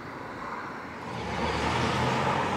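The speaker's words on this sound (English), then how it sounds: "You'll have to excuse the traffic noise" Busy street traffic on Central Drive in Blackpool, a broad steady roar of passing vehicles that swells noticeably louder halfway through, with no talking.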